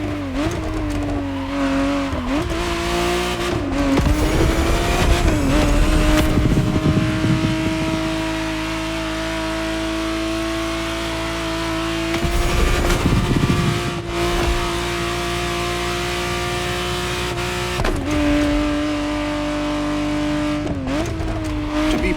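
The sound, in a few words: Ferrari 512 TR Testarossa engine revving in video game The Crew Motorfest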